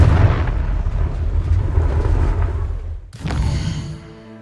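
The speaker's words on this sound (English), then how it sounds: "Confringo!" Confringo fire spell from Hogwarts Legacy erupting into a loud, rumbling blast that roars for about three seconds, then cuts to a brief ringing magical tail that fades out.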